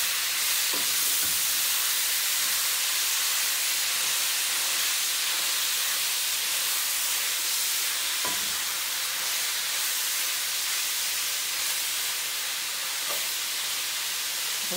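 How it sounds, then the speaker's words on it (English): Ground beef frying in a skillet while being stirred and broken up, a steady close sizzle and hiss with a few faint scraping knocks, no talking. "we got our ground beef into the skillet, and it's going. So let's give it a stir"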